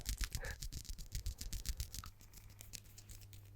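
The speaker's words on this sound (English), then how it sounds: "I'm going to title it mic scratching and mic and fabric scratching." Close scratching of fabric against a microphone in a steady, fast run of rough brushing strokes that stops after about two seconds, leaving quiet low hum, with no voices.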